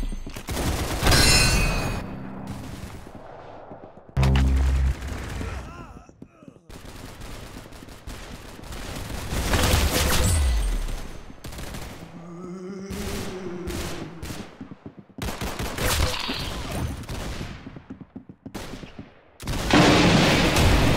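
Gunfire in the Roblox game Arsenal, with rapid bursts and volleys of shots broken by brief gaps, loud and up front, mixed with game sound effects.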